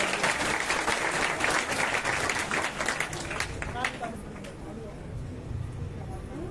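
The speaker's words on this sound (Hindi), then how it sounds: "इनके लिए जरा जोरदार तालियां बजाइए आप।" An audience at a Shrimad Bhagwat Katha gathering claps loudly and steadily for a few seconds, then the applause fades away into quieter room noise.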